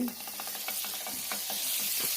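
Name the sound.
butter sizzling in a pan on the stove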